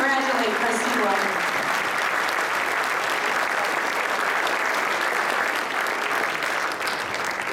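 Sustained, loud audience applause fills an indoor hall at a business awards ceremony as a Young Professional of the Year winner is congratulated, steady clapping from a large crowd throughout.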